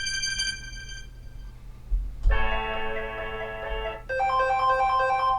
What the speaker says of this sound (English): let's turn on sound here, and I want to show you the ringtones here.